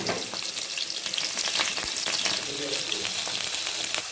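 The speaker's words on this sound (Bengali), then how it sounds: "এবার আলুগুলোকে হালকা ভেজে নেব।" Potatoes fry in a pan with a constant, crackling sizzle up close, while scraping and stirring noises recur throughout.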